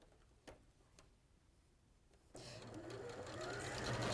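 A sewing machine stitches a fabric seam: soft clicks and ticks at first, then the motor starts abruptly and runs in a steady, close whirring drone that grows slightly louder.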